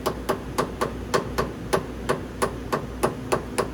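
Hammer blows on a workpiece clamped in a machine vise against a fixture pin, about a dozen sharp, evenly spaced metallic taps close by over a steady low machine hum.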